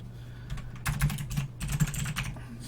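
Quick bursts of typing on a computer keyboard, close and crisp keystrokes in two short clusters with brief pauses between, no talking.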